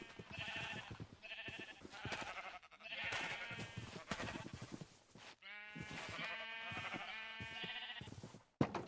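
Sheep in Minecraft bleat repeatedly in a string of close, clear cries, one after another with short gaps, alone without talk.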